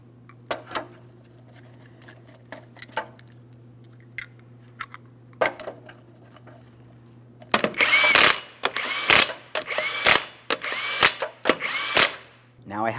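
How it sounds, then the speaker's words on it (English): Impact wrench or power drill buzzing in repeated short bursts on the 21mm wheel lug nuts of a 2003-2008 Toyota Matrix, loud and close, after a quieter stretch with faint clicks and a low steady hum. "go ahead and start on all 5 of your 21mm lug nuts"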